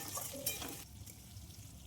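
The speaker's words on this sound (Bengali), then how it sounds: "আলুগুলো ভেজে নেব।" Long-cut potato strips frying in oil in a wok after fish, a soft steady sizzle with a few brief stirring scrapes near the start, close and fairly quiet.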